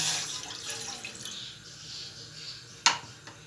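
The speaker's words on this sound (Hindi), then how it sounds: "चाशनी के लिए सबसे पहले हम 1 कप पानी लेंगे।" Water is poured for sugar syrup while making barfi, a hissing stream that fades out, followed by a sharp clink of a vessel.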